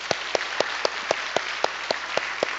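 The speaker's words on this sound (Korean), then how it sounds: "우리 한번 돌아보시면서 우리 힘차게 격려의 박수 함께 하시겠습니다" A church congregation claps in encouragement for standing shepherds, heard as evenly spaced, moderately loud claps in a regular rhythm, about ten beats in under three seconds, with a faint room hum beneath.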